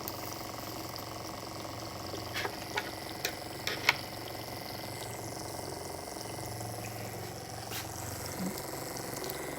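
Water running through the water-bath of a DIY plastic filament extruder: a quiet, steady trickle and hum of flowing water, with a few soft clicks and taps scattered through it.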